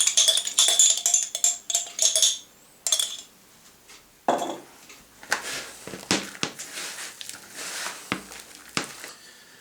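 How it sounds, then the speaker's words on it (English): A spoon scoops a jar of rowan jelly into pigeon sausage meat in a bowl, giving close clinks and scrapes of metal on glass followed by softer, wet squishing and sporadic knocks. "So we're just going to scoop the whole of this jar into the sausage meat mix."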